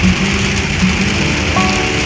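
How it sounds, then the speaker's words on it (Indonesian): Steady rain falls on a surface, a continuous dense hiss with scattered droplet patter, loud and close, with no voices. "Suasana hujan-hujan seperti ini"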